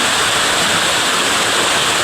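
Uwan Uwanan Falls pours in a steady, dense roar of rushing water, loud and close with no pauses or other sounds standing out.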